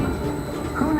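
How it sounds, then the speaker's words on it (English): A magnetic-levitation commuter train effect in a Disney ride at Epcot, a steady rumbling rail-style whoosh with a brief swell near the end, heard amid ambient voices. "You'll be able to keep working on a commuter train that runs on magnetic force."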